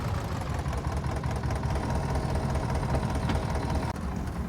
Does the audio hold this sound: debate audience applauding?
no